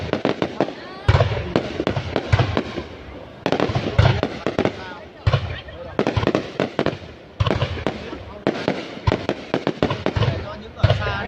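Spring festival fireworks bursting high overhead, a steady run of loud cracks and booms with crackling tails, while people talk nearby throughout.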